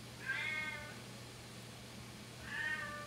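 A cat meows twice, close by and clear, with a pause between the two calls over a faint background hum.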